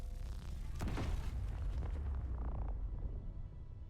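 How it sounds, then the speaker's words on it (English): Railgun fired in the game Space Engineers: a single deep boom with a sharp crack, then a rumbling tail that fades over a few seconds, with no talking. "Moving across to the railgun, I have very little hope for this because, well, I suck at aiming this weapon."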